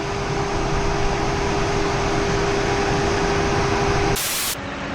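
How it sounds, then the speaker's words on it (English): Tesla Model 3 Standard Range Plus battery cooling fan roaring steadily at a fast charger, a loud broadband rush of air being drawn in, with a brief burst of added hiss near the end before it settles slightly quieter. "The battery cooling is so loud, unbelievable. It sucks in my hand. So much air being sucked in, wow."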